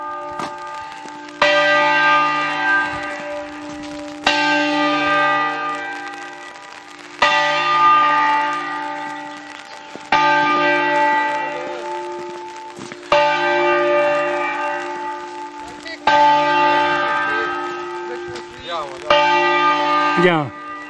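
Church bells in the Val Mara area of Valle Intelvi ring in repeated bursts of rich, sustained tones, each strike swelling and fading over a steady drone, loud and close throughout.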